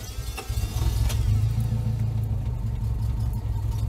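A broken-down Honda Civic engine idles roughly, a low uneven rumble close by that surges briefly and then settles into a labored, unsteady drone.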